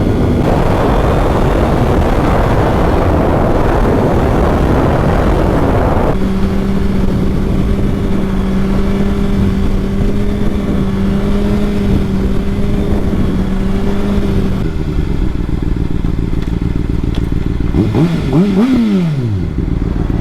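A 2007 Honda CBR 600RR on a test ride gives a loud, steady rumble mixed with wind roar. A sustained engine tone holds through the middle, then drops away and is followed by a brief rising and falling pitch sweep near the end.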